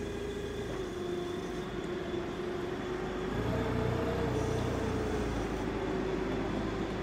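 Toyota 8FGCU20 4,000 lb propane forklift runs with a smooth steady engine hum and a faint tonal whine, getting slightly louder midway, with no talk over it.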